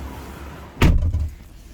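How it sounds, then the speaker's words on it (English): BMW 330e G20 sedan door shutting: one solid, close thud with a short low rumble after it, standing out from a quiet background. "Let's close the door."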